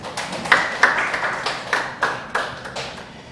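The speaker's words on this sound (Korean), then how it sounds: "하나님께 영광의 박수를." A church congregation claps along during a Sunday worship service, a steady run of sharp, loud hand claps in an irregular rhythm close to the microphone, with no talking over it.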